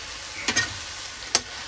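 Mushrooms frying in a pan for French carbonara are stirred, giving a soft steady sizzle with a few sharp utensil clicks against the pan, close and moderately loud.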